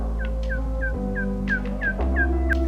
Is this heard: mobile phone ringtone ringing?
no